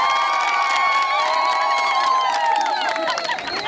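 A crowd at a Rwandan community Umuganda gathering cheers loudly and continuously, with shouts and whoops over a dense roar, applauding village leaders up close.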